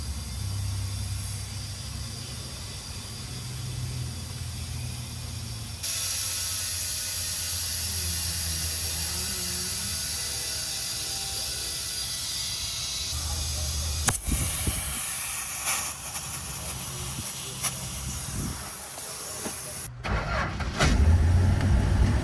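An old Plymouth Barracuda engine, parked for 30 years, runs steadily with a low rumble and hissing, then the sound shifts abruptly, with clunks and a louder rumble near the end.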